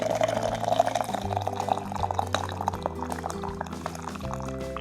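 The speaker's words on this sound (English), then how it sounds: "we'll fill the bottom of this up and then fill it up with water" Water pours steadily into a teapot holding loose herbs, a continuous liquid fill with rising pitch over nearly five seconds, close and alone.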